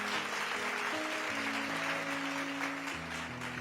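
A church congregation at a pastor's sermon claps and cheers in a sustained wash of applause, with sung or shouted tones rising over it, full and fairly loud throughout.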